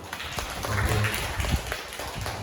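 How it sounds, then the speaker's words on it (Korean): A church congregation at a Sunday service gives a short burst of welcoming applause, a dense, steady wash of many hands clapping in a room, with a few louder claps and faint voices underneath. "우리 환영 박수 한번 드릴까요?"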